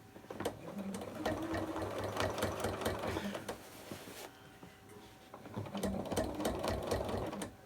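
A sewing machine stitches a quilt with ruler fan quilting on an apple core runner. Its rapid, steady mechanical whir is heard up close, pausing briefly partway through before running again.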